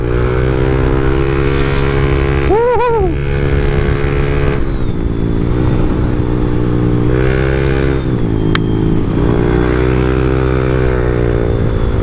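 Yamaha Aerox SP scooter engine revving, a loud, close, buzzing engine drone with a rising and falling rev swell partway through and brief clattering bursts, heard alone without talk.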